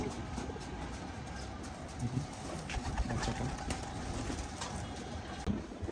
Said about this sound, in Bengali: সুন্দর একটা কবুতর